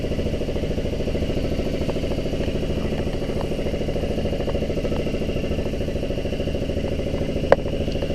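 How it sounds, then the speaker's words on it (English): A boat engine drones and clatters continuously with a persistent high whine from squealing belts riding over it, close by, and one brief sharp click near the end. "We got squealing belts that will need to be fixed."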